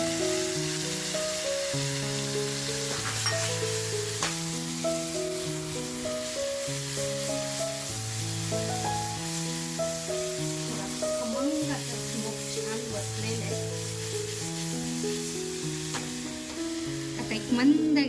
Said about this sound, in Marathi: आता ही जी मांदेली घेतले ती आता आपल्याला तेलामध्ये टाकायची आहेत